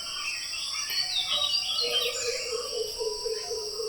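Birds chirp in the morning outside a wooden hut near the Kabini river bank in Wayanad, with thin high calls over a continuous insect-like buzz and faint background ambience, no talking.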